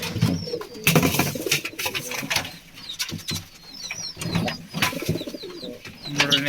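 Several pigeons coo in soft, repeated rounds from a cage close by, their low throaty calls overlapping through the whole stretch, with a few higher chirps and light rustling between them.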